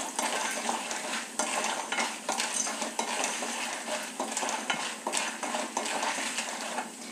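Turkey berries (sundakkai) go into frothing oil in a pan and fry, a continuous crackling sizzle broken by frequent metallic clinks and scrapes of a stirring utensil, with no one talking.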